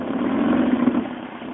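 A Mazda 1.8 liter engine idles steadily while its idle air bypass screw is adjusted, giving a close, low, continuous rumble with slight fluctuations and no talk.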